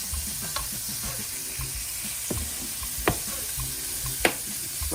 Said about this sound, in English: We're going to give that a good 2 minutes on either side to fry